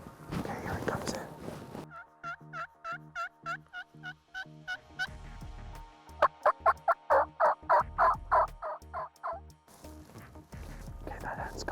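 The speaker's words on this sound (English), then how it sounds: "He's gobbling right there." Wild turkey gobbler approaching with hens during a spring hunt, gobbling in a rapid series of rattling calls, moderately close, with several gobble bursts separated by pauses and soft whispered talk at the start.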